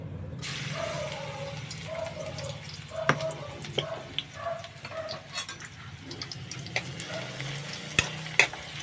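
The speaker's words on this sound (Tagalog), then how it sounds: "Ayan po, magigisa na si Ate May." Onions, ginger and garlic sautéing in a pan, a steady low sizzle with scattered clicks and scrapes of stirring, moderately close and without talk.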